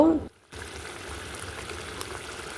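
Egg masala curry gravy bubbling in a pan as it reduces, a steady soft sizzle and simmer that carries on alone after a brief gap at the start.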